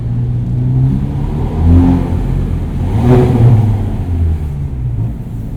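A 2019 Hyundai Veloster N Performance Pack engine revs inside a parking structure, a loud, close, low throaty rumble that swells and eases twice over a steady drone.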